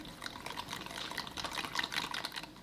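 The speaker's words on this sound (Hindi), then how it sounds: "इसमें तकरीबन 2 टेबलस्पून हम पानी डालेंगे" About two tablespoons of water are poured into a white pasta dressing of garlic powder and black pepper in a kitchen, a soft, close trickle that splashes lightly for a few seconds.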